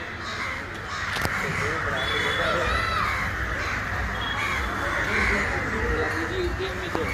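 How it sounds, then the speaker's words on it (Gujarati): Many crows keep up a steady chorus of harsh caws in the evening at Sasan Gir, Gujarat, a thick, unbroken din of overlapping calls heard from nearby trees. "તો આ કાગડાનો અવાજ સાંભળતા સાંભળતા હવે આપણે જઈએ"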